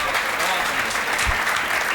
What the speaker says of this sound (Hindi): यदि मजा आए रहो हो तो एक बार ताली बजा के बता